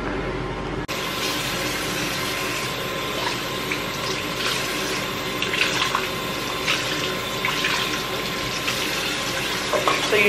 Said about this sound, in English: So usually I use a cup to pour the water on.